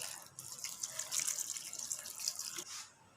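About 1.5 litres of water pours into a cooking pot holding beef, lentils and ground spices in village-style cooking, a steady splashing stream lasting a few seconds, fairly soft and without talk.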